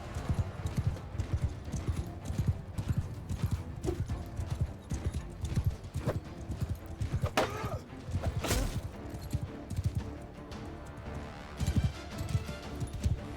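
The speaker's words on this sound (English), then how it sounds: "Yeah, there are horses." Many hooves clatter in a fast, dense clip-clop, with horses galloping in a cavalry charge and an occasional whinny amid a loud, busy battle din in the video game Mount & Blade II: Bannerlord.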